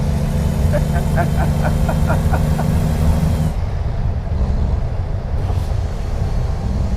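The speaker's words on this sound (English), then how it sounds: "now we can hear the engine a little bit louder" A steady low engine drone from a car driving simulator game runs throughout, with a rhythmic series of soft clicks early on before the hum shifts and continues alone.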